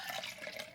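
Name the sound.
pouring warm liquid into a little bowl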